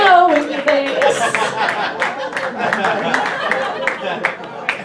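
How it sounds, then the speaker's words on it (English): Audience clapping at a stand-up comedy show, a steady patter of hands with scattered chuckles and crowd chatter running through it. A voice talks over part of the sound. "Thank you guys for clapping."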